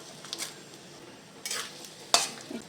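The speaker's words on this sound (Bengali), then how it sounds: "সাহা জিরে ফোড়নে আর দেবো গোলমরিচ গোটা গোলমরিচ আর দিয়ে দেবো পাঁচ ছটা তেজপাতা" Cumin seeds, whole black peppercorns and five or six bay leaves crackle and sizzle in hot oil as a tempering, with soft stirring scrapes and a few sharp pops in short bursts.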